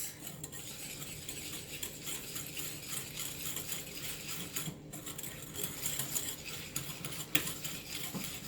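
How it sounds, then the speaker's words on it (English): Sugar and egg yolk being mixed in a bowl, a steady, rhythmic scraping and swishing that continues throughout at close range. "Mix, mix, mix."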